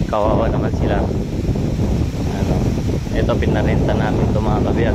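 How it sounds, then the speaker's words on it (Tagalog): Strong wind roars against the microphone in a continuous low rumble while someone talks throughout. "Nakakatakot lakas ng hangin."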